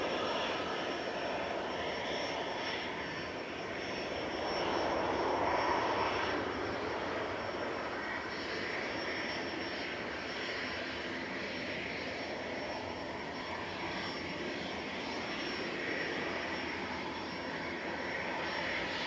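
A FlexJet Embraer Praetor 600 business jet arriving from Zurich, a continuous, fairly faint jet rumble and whine that swells slightly midway, heard from a distance with no talking.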